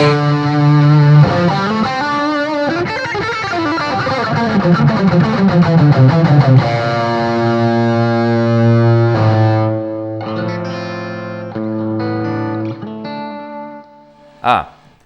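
Overdriven electric guitar through an Amp1 Mercury Edition classic channel with extra gain and a booster, playing loud sustained distorted notes and chords, then ringing chords that fade before a sharp final hit.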